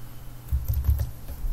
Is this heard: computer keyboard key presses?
yes